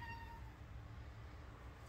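A cat gives a single short meow near the start, over a low steady rumble of background noise.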